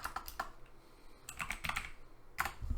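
Typing on a computer keyboard: clusters of quick, crisp key clicks in short bursts with small pauses between them, close and fairly soft.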